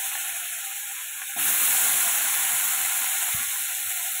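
Food frying in a pan in a home kitchen, a steady broadband sizzle that jumps louder partway through as more goes into the oil and then holds, close and continuous with no talking.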